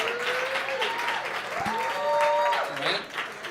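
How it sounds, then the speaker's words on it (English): Audience applause for a female contestant in a Bark vs Bite debate, sustained clapping at moderate volume with a tonal whistle or musical sweep riding over it, swelling slightly near the end. "Should we give her more applause?"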